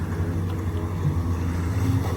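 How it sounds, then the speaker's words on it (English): An Explorer jet ski passing on Whiskey Creek in Fort Lauderdale: a steady motor hum carried over wind buffeting the microphone, with a fairly even level throughout. "It's a cool jet ski."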